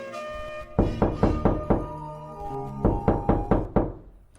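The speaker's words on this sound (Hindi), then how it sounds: "मेरी सास मेरे कमरे में दरवाजे पर दस्तक देने लगी।" Knuckles rap on a wooden bedroom door in two quick bursts of about five firm knocks each, close and loud, separated by a short pause, with no voices.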